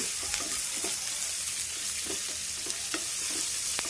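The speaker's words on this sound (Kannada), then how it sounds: "ಒಂದೇ ಒಂದು ಈರುಳ್ಳಿ ಉದ್ದಕ್ಕೆ ಕಟ್ ಮಾಡಿಕೊಂಡು ಅದು ಹಾಕ್ಕೊತೀನಿ. ಎಲ್ಲನೂ ಕೆಂಪಗಾಗೋ ಗಂಟ ಹುರ್ಕೊಳ್ಳೋಣ." Long-sliced onion and garlic sizzle steadily in a pan, a continuous hiss broken by repeated soft scraping stirs at an even pace, close and moderately loud, with no voices.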